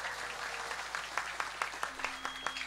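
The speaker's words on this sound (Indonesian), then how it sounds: "Yo tepuk tangan yang meriah" Faint, scattered applause rises from the audience at a wayang santri shadow-puppet show led by Ki Enthus Susmono, a soft patter with a few distinct claps standing out over low background murmur.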